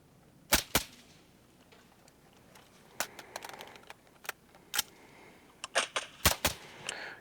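Sharp, sparse rifle gunshots from a recorded shooting session, isolated cracks spaced irregularly across several seconds, with a few smaller clicks and taps between them and no talk.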